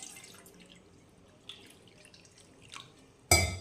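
Water goes into a small bowl while preparing rice-flour modak dough: soft scattered drips and trickles, then a sudden loud splash of pouring near the end.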